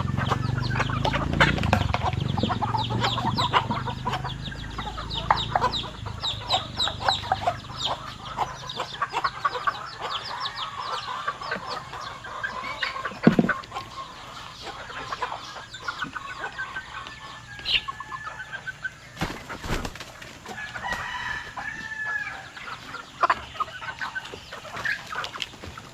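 Chickens cluck and rooster-like calls sound throughout alongside small chicks peeping, with a brief burst of wing flapping near the middle; the flock is close and fairly busy in a farmyard setting with no talk.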